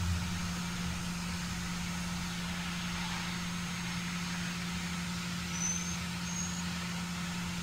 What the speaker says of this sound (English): you're gonna hear turbo and jet brake